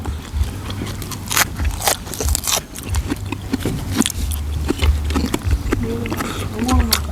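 Crunchy bites and wet chewing of pounded golden apple snails repeat steadily up close, with a person talking throughout.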